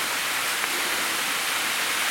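Waterfall in a gorge, a steady broad roar of rushing water filling the whole stretch evenly, close and unbroken, with no voices.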